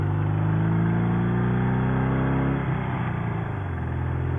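A Martini Racing sidecar motorcycle's engine runs loud and close while cornering, holding a steady droning note that dips and wavers slightly partway through, with no voices over it.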